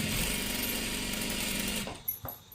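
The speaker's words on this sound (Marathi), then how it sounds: "शिलाई मारून घ्यायची आहे" A sewing machine stitches a sleeve in one fast, rapid-fire run of close mechanical clatter, stopping abruptly, followed by a few soft handling clicks and rustles.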